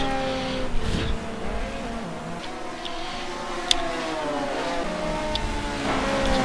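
BMW GT2 race cars lapping Spa in a racing video game, engines whining and shifting through revs with occasional tire squeal and sharp clicks, a continuous moderately loud mechanical drone with no talk.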